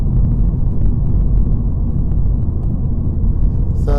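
A Mini F56 John Cooper Works engine drones loudly and steadily from inside the car as it is driven under load, with a dense low rumble throughout and a brief higher tone at the very end.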